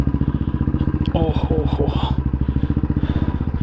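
A heavily loaded motorcycle chugs close by at low revs, its engine beating in a steady, rapid thump as it sets off, while someone speaks briefly over it.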